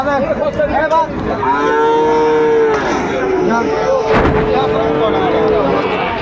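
A Sahiwal bull calf lets out long, loud, drawn-out moos close by at a Noakhali cattle market, one after another, with a sharp bang or thud partway through amid background bustle.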